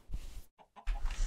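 A Minecraft chicken clucks in short bursts, a brief squawk followed by a pause and then a louder clucking run, close and clear with no speech.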